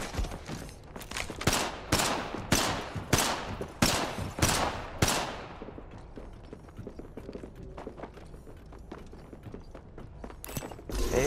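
Gunfire in Apex Legends: a run of loud, evenly spaced close shots cracks out about once every half second, then gives way to quieter, scattered battle noise with a sharp report near the end.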